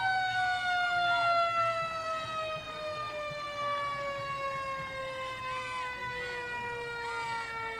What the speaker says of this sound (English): we have the Lawrenceville Fire Department engine 8-3